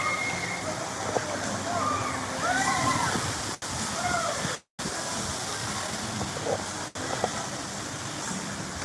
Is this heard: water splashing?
yes